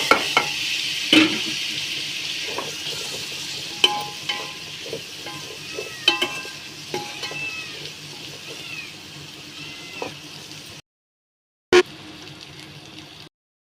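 Spiny gourd pieces fry with turmeric in a pan, giving a continuous close sizzle broken by repeated stirring scrapes and clinks. The sound ends in a brief silent gap and then one more short burst of frying.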